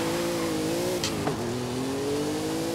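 Rossion Q1 supercar racing in the driving game Forza Horizon 5, with a sustained, loud engine drone that holds, dips briefly on a gear change or lift, then builds again.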